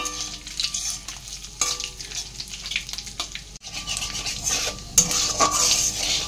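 Cumin seeds, dried red chilli and a bay leaf sizzle in hot oil for a chana matar dish, with a steady frying crackle broken by close metal clinks and scrapes of a spoon stirring the pan.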